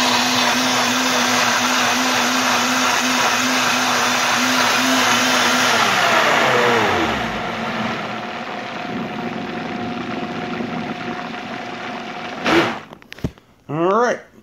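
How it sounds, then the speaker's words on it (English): A Vitamix blender roars loudly and steadily, its pitch sliding down as the motor winds off, leaving a lower hum, followed by brief clattering and voices. "You don't want to go too long though, because you'll overheat your blender."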